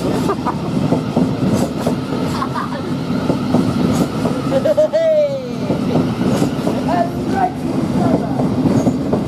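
Train at Three Bridges railway station, a steady rumble of wagons rolling with rhythmic clatter and a brief wheel squeal midway, fairly close, with faint voices in the background.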